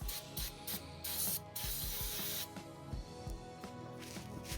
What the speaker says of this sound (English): we need to spray this down with some brake parts cleaner